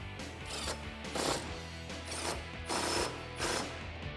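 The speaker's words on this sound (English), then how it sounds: "with your 11mm socket and wrench, tighten down the bolts that hold the bracket to the pinch weld" An 11mm socket and wrench ratcheting bolts tight on a Go Rhino running board bracket at the pinch weld of a 4-door Jeep Wrangler JL, with repeated bursts of quick metallic clicking at close range and no talking.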